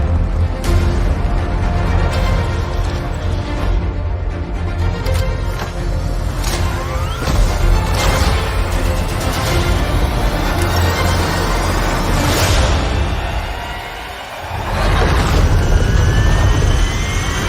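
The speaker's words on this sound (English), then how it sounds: "3, 2, 1, 0. We have liftoff." A rocket lifts off with a loud, continuous broadband roar laced with sharp crackling bursts, dipping briefly before surging back to full strength.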